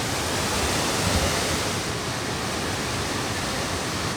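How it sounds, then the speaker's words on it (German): Coo waterfalls in the Belgian Ardennes roar in a steady, dense rush of falling water, loud and continuous throughout with no voices over it. "Ein kleiner Gruß von mir von den Coo-Wasserfällen, COO. Vielleicht hört ihr es schon im Hintergrund."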